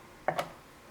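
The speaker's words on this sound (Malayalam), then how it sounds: "ഐസും ചേർക്കാം." Ice cubes drop into spiced almond milk seasoned with pepper and cinnamon: a single sharp clink followed by a second small knock, close and brief, with near-silence around them.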